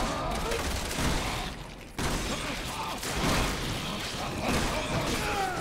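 Shotgun blasts and combat noise in Resident Evil 6, a busy, loud stretch of booming shots and crashes with a short break partway through, and a voice audible beneath the action.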